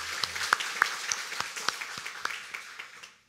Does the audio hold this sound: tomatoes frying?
no